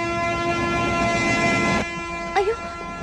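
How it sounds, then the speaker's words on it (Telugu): A passenger train on an Indian railway pulls out, a steady rumbling hum with a mechanical whine that cuts off, followed by a brief two-note horn toot, heard close in a station setting with no talk. "అయ్యో ట్రైన్ స్టార్ట్ అయింది"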